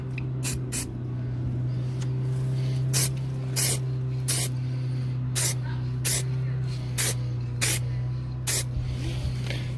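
An aerosol can lays light dusting coats of spray paint onto a car's front wing bodywork. Sharp hissing bursts, about a dozen short sprays at uneven intervals, sit over a steady low background hum.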